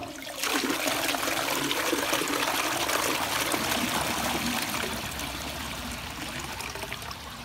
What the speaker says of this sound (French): Donc, du coup, je vous tire la chasse.